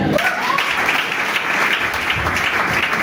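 A church congregation applauding, a dense, steady wash of many hands clapping together, loud and sustained throughout with no break.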